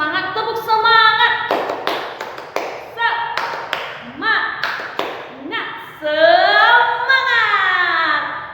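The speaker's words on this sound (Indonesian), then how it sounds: "Oke, kita tepuk semangat, tepuk semangat." A class of children claps the rhythmic 'tepuk semangat' chant in quick bursts of sharp claps, their voices chanting along in between, close and lively.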